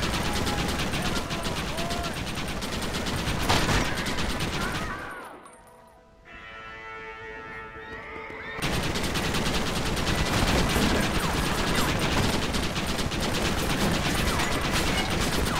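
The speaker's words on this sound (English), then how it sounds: "I'm trying to shoot the explosive barrel thing." Dense, rapid gunfire rattles loudly and continuously during the attack on Fort Mercer in Red Dead Redemption on Xbox One, dropping out for about three seconds midway before the barrage resumes at full strength.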